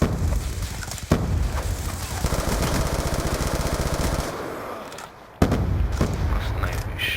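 Gunfire in Call of Duty Black Ops 2: rapid automatic bursts and loud single shots, dense and continuous, briefly dropping away before heavy shooting resumes.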